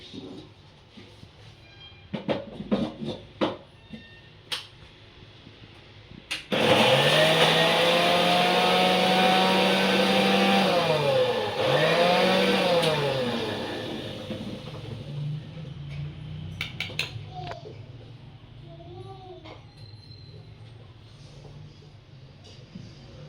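A mixer grinder grinds pieces down into fine powder in one long, loud, rough whirring run of several seconds, rising and dipping in pitch, framed by clattering and knocking of the jar before and after.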